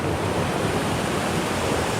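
Powerful sea waves surge at Koh Lipe in Satun Province, Thailand, a steady, loud wash of surf with wind rumbling in close, filling the clip with no talk.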